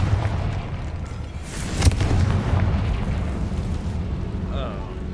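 Confringo fire spell blast in the Hogwarts Legacy video game: a sustained, rumbling explosive roar with a sharper burst near the middle, loud and dense throughout.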